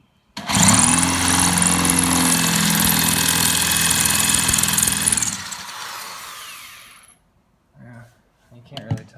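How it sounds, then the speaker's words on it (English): A power drill bores into reef rock during an aquascape build, running loud and steady for about five seconds before winding down to silence, followed by a couple of faint brief noises. "Just drill it in."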